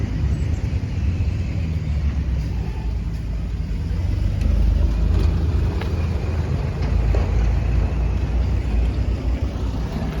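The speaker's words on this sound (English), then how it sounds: "There goes a truck delivering bottles of water," A truck carrying 5-gallon water jugs passes along a street corner in North Chapala, Mexico, its low engine rumble steady and fairly loud throughout, with no talking.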